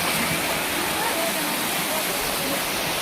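A hillside stream pours steadily on the way up to a temple in Rajasthan, a constant broadband rush of flowing water close by with no breaks across the few seconds.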